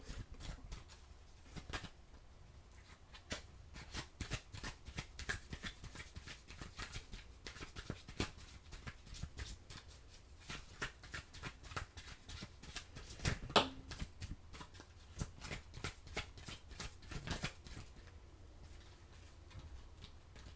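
Tarot cards are shuffled by hand over about twenty seconds, a steady run of soft papery riffles and slaps with brief pauses, close and fairly quiet with no voices.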